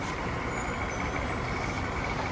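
A KSRTC Ashwamedha bus on the Tirupati to Bengaluru route pulls into a roadside break stop, its engine a loud, close, unbroken rumble with a constant hissing layer on top.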